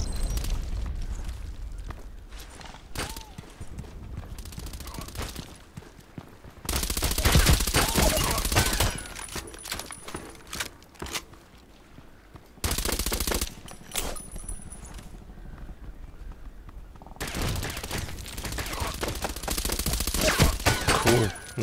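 Heavy gunfire in the sniper shooter game ADXsniper, coming in long, loud rattling bursts separated by quieter stretches of distant shots and rumble, with no talking.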